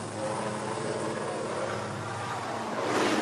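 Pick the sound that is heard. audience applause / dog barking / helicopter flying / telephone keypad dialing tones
helicopter flying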